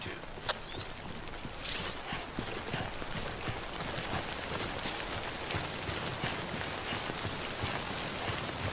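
Steady timefall rain falls in the video game Death Stranding, a dense, even hiss with scattered patters and a few sharper splashes early on, moderately loud and continuous with no voices over it.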